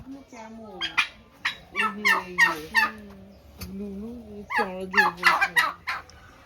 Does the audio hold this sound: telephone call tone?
no